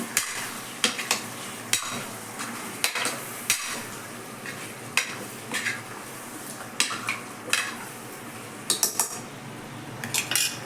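Chicken pieces sautéed and stirred in oil in a pan for a chicken kurma, with repeated clinks and scrapes of a spoon against the pan over a soft, steady sizzle, close and fairly quiet, no talking.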